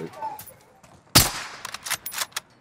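Gunfire in Call of Duty: Modern Warfare: a sharp, loud burst crashes in after a quiet stretch, followed by several shorter shots scattered over the rest of the moment.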